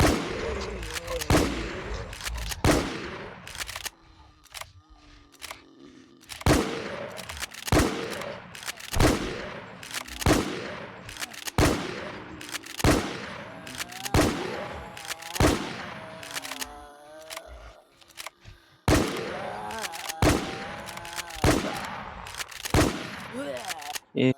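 Gunfire from a KT Decider shotgun in the video game Infestation, hunting a boss in an abandoned town: about twenty loud, punchy blasts in uneven bursts with short gaps, and faint talk between some shots.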